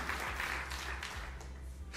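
A church congregation applauding, a brief burst of dense, steady clapping from a crowd.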